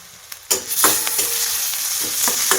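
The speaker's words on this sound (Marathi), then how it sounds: "ती पेस्टही मी तेलामध्ये छान अशी परतून घेणार आहे" Green chili and garlic paste sautés in hot oil with a loud, close sizzle and hiss, broken by a few scraping stirs, and no one speaks.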